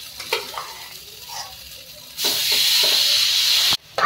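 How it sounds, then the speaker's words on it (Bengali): Semolina dry-roasting in a pan for gujiya filling gives soft scraping stir strokes, then a loud, steady hiss that runs for about a second and a half before cutting off abruptly. "গুজিয়ার ভিতরে যে মটেরিয়ালটা পড়বে সেই জন্য সুজিটা ভেজে নেব"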